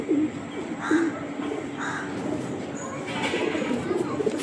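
A female Kalanka pigeon coos in low, repeated soft phrases near at hand, with faint ambient noise and occasional other bird calls behind.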